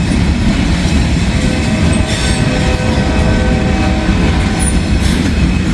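Freight train rolling past on a railroad line, a loud, close, steady rumble of wheels and cars with faint squeals and clatter, sustained throughout with no talk.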